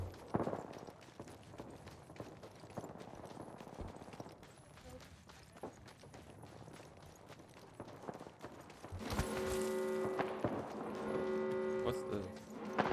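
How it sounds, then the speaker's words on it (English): Scattered video-game gunfire pops in the distance amid game ambience, followed by a louder burst of mechanical, tonal noise near the end. "I hear gunshots, so I just don't know where they're from though."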